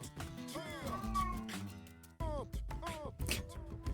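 A pet cat meows several times in drawn-out, rising and falling cries, fairly close and insistent, over a busy layer of background sound from an indoor gaming stream.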